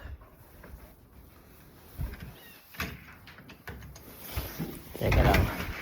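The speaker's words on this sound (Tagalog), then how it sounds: "Sara muna natin yung pinto." A door pulled shut at home before stepping out on a winter morning, heard as a few soft knocks and thuds with the loudest bump near the end, over faint background noise.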